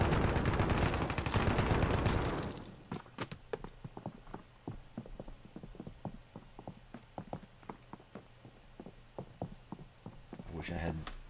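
Video game gunfire in a battle-royale fight, a loud dense burst at the start followed by scattered sharp shots and quick volleys at varied distances, with some talk over it.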